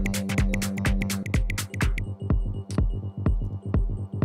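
Skeleton of an electronic music track made in Ableton Live, with a punchy kick drum pulsing steadily under deep sub bass, plus crisp hi-hat and percussion hits and sustained synth tones, loud and up front with no voices.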